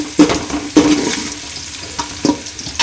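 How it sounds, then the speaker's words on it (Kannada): Onion frying in hot oil for capsicum chicken, close crackling sizzle with a few sharp stirring scrapes of a spoon in the pan, three or four distinct strokes over the continuous fry. "ಇದು ಸ್ವಲ್ಪ ಫ್ರೈ ಆಗಲಿ."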